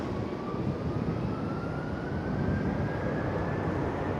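A Delta Airlines Airbus A330 jet passes at Schiphol, its steady, loud broadband engine roar filling the whole stretch with a slowly rising whine above it.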